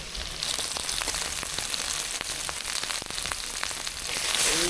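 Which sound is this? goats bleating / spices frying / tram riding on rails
spices frying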